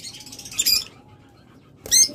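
Caged pet lovebirds and cockatiels let out two short, high, bright chirp bursts close by, with a quiet pause between them.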